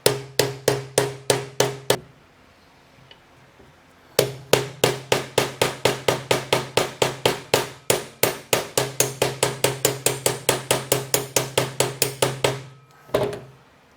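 Sharp, regular hammer blows ring out close by as a part is driven flush during a 2017 KTM engine bottom-end assembly: a quick burst of strikes, a short pause, then a long steady run of evenly spaced hits.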